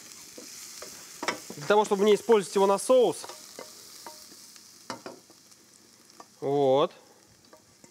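Onion and garlic sizzle in a frying pan, a soft steady crackle close by while someone speaks over it, with occasional stirring.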